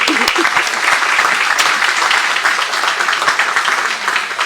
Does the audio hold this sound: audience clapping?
yes